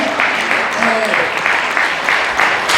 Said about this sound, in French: Je voulais juste également qu'on puisse applaudir François Zimret